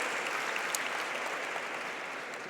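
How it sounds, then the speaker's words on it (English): An audience at a university store launch gives a hearty round of applause for two ministers, a steady, dense wash of clapping that holds evenly throughout with no talk over it. "Please give these both ministers a hearty round of applause."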